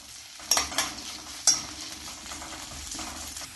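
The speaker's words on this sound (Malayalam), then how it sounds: "ഇതിലേക്ക് ഒരു 10 ചെറിയ ഉള്ളി മുറിച്ചതും ഒരു 8 വെളുത്തുള്ളി മുറിച്ചതും കുറച്ച് കറിവേപ്പിലയും ചേർത്ത് വഴറ്റാം" Shallots, garlic and curry leaves sizzle softly in hot oil, with a few sharp scrapes and knocks of a spoon stirring the pan.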